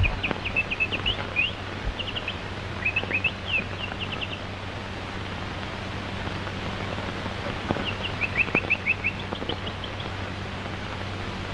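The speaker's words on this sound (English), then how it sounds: "Darn the bird." Short, high bird chirps come in small clusters at the start and again near the end, fairly faint over a steady low room hum with light background noise, in an old 1929 film.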